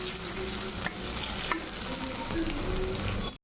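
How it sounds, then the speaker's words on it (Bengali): Onion, a dried chilli and a bay leaf frying in oil left over from frying fish, for a moong dal with fish head. A steady close sizzle with a few stirring knocks, and no voices. "মাছ ভাজার তেলে আমি পেঁয়াজ দিয়ে দিচ্ছি, পেঁয়াজ, একটা শুকনো লঙ্কা আর তেজপাতা"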